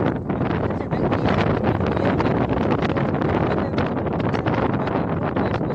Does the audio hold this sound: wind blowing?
yes